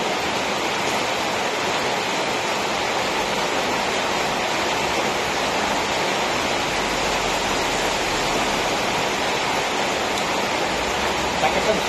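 Heavy rain pours down in a steady, dense hiss that stays loud and unbroken from start to finish.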